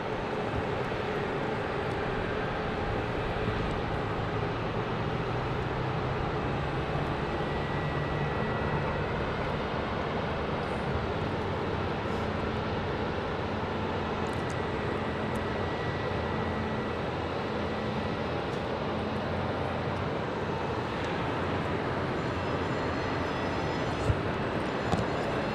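Alaska Airlines Boeing 737 Max 8 jet airliner in special military-honoring livery arriving from Portland at Phoenix airport, a steady broadband jet roar holding evenly throughout at moderate distance with no talk.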